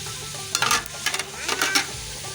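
Tomatoes and green chilies frying in a cooking pot, with a few quick bursts of sizzle and stirring scrapes close up in a short stretch of kitchen sound.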